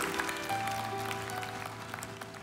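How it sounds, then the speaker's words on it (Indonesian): A congregation applauds during a church sermon, a broad wash of clapping held throughout with a steady hum beneath, fairly loud and filling the room. "kasih tepuk tangan yang paling meriah buat Allah kita"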